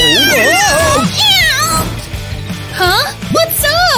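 A cat meows in several close, loud, wavering cries in quick succession, some stretched into caterwaul-like wails, with voices talking over and between them.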